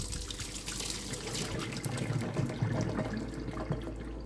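Boiled spinach is squeezed by hand to press out the excess water, giving a wet trickling and dribbling sound, fairly soft and continuous with small splashy bursts toward the middle.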